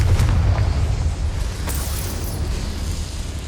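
Confringo spell explosion in Hogwarts Legacy, a heavy low boom bursting up front with sharp cracks, then a rumbling tail that fades slightly while staying loud.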